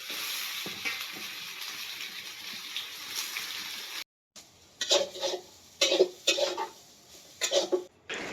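Potatoes frying for aloo bhaja in a pan, starting with a soft steady sizzle, then a brief silence, then bursts of louder crackling and clatter.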